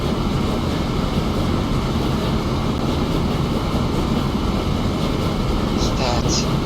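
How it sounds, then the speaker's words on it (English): Trains run in the Transport Fever 2 railway-building game as a continuous, even rumble of rail traffic with a washing, wave-like noise bed, ending with a couple of brief higher tones. "let the trains run"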